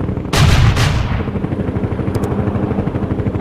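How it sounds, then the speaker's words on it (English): An artillery barrage opens in World in Conflict with a heavy, loud blast or pair of close booms followed by a rumbling, pulsing low roar that continues steadily. "Commencing the barrage."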